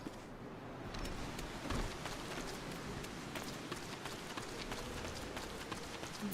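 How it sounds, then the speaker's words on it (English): Steady in-game rain from Final Fantasy XIV Online, a continuous hiss of falling drops with scattered sharper spatters, evenly loud across the whole stretch with no voices. "It's raining in the game"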